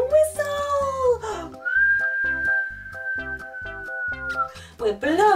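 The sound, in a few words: people whistling to imitate the wind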